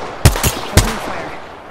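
Gunfire in the video game Apex Legends: two sharp, loud shots about half a second apart, each followed by a quick echoing burst, then a fading tail.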